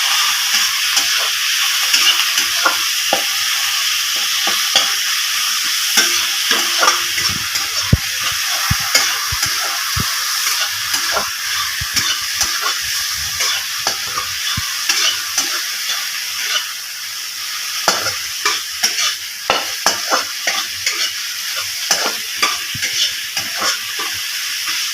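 Ground onion and crushed garlic fry in a pan with a steady close sizzle and hiss, broken by frequent sharp clicks and scrapes of stirring throughout, and no voices.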